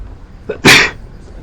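A single sharp sneeze, loud and close, preceded by a brief intake of breath, with nothing else around it.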